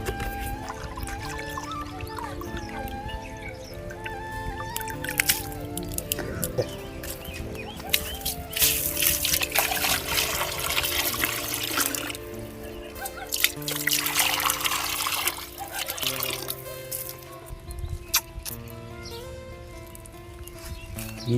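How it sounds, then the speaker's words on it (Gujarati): Water is poured into a container for thirsty birds, trickling and splashing in bursts over a little more than twenty seconds while chickens cluck nearby. "ચાલો એને પાણી પાઈ દઈએ પહેલાં."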